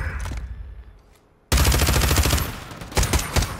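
Loud rapid automatic gunfire from Call of Duty MW3 erupts suddenly after a quieter moment and fires in a sustained close burst.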